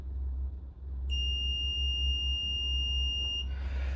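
A multimeter sounds its continuity beep while testing the motor of a Black & Decker MM875, a single steady high-pitched tone lasting about two seconds over a low background hum.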